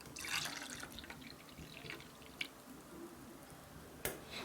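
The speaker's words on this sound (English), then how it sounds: "let me pour you a nice cold glass of something homemade" A nice cold glass of homemade drink is poured in a school radio play, a soft trickle of liquid splashing into a glass with a few faint drips, quiet and close.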